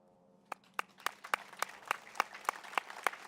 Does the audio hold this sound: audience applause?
yes